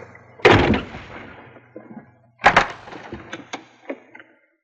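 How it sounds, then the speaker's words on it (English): A door closes aboard a boat in an old film scene, with a heavy thud followed by a second loud bang and several lighter knocks and rattles fading off. "Close the door."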